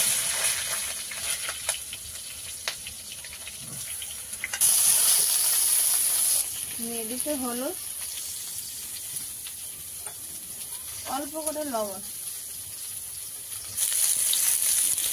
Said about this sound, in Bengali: আর এবার বেগুনগুলো ভেজে নেব।